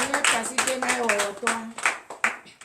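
A congregation claps in acclamation during a French-language morning prayer service, a run of uneven, overlapping hand claps beneath singing or chanting voices that continue throughout.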